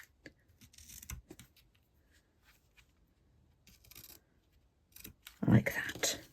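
Scissors trim small paper pieces for a handmade Christmas card, quiet scattered snips and paper rustles close by, ending in a louder burst of handling noise.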